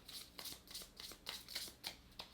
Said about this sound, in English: I'm making sure I really shuffle these things.